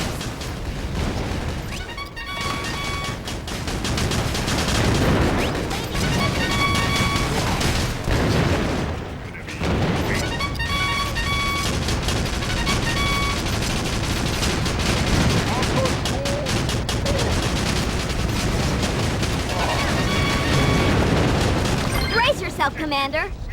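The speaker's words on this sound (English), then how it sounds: "Lay down some heavy fire on those ACAT troops." Heavy gunfire in the war game Battalion Wars, dense continuous rattling volleys and explosions filling the scene, with voices talking over the battle.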